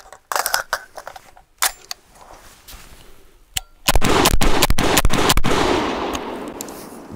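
An MCX Spear-LT rifle fires Barnaul 123-grain full metal jacket ammunition in a few sharp, loud shots with clicks and handling noises between them, followed by a heavier blast and a long, washing roar.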